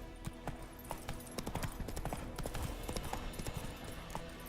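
Horse hooves clip-clop steadily at a trot in The Witcher 3, a fast, even run of close, crisp hoofbeats over a faint background bed, with no voices.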